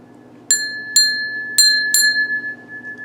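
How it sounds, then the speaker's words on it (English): Four clear metallic bell strikes, sharp and ringing, spaced unevenly with a sustained tone that lingers and fades after the last hit. "Ring the bell."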